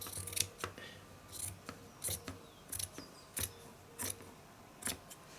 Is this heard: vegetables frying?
no